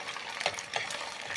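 Egg frying in hot oil in a pan for an omelette, a soft steady sizzle with faint crackles, close and fairly quiet, with no talk.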